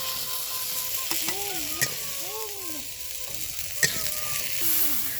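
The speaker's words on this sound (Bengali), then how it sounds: "একটু হলুদ দিয়ে দিব একটু লবণ দিয়ে দিব এবার একটু ভেজে নেব" Fish pieces coated in turmeric and salt fry in oil in a traditional clay pot, making a steady broadband sizzle with occasional sharp pops and clicks and some faint whistling tones over it.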